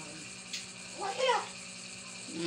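During a cat fight, a cat's short, strained yowl rises briefly out of a quiet room, one tense vocal burst in the middle, with faint background hum.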